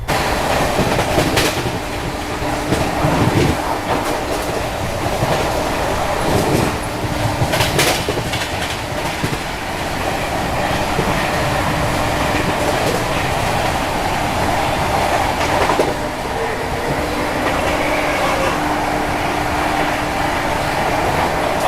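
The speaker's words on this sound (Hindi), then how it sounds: "अपनी ट्रेन स्किप कर रही है फरीदाबाद रेलवे स्टेशन।" Delhi Howrah Rajdhani Express rolling along the tracks, heard from inside a second AC coach as it skips Faridabad station: a steady loud rumble with continuous wheel clatter and car noise throughout, no talk.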